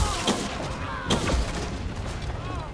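Cannon blasts in the Assassin's Creed Revelations video game, two booming low thuds about a second apart over a busy game soundtrack.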